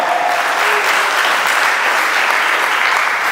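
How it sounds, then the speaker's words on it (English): A dense, continuous burst of audience applause at an event honoring brother Tad Cromwell, many hands clapping loudly and evenly throughout with no clear voices on top. "give brother Tad Cromwell a round of applause"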